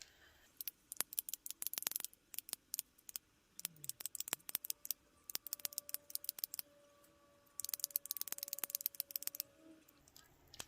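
Rapid, faint plastic clicks from a click-pen type concealer being twisted to push product up to the brush, coming in quick clusters with short pauses in a quiet room.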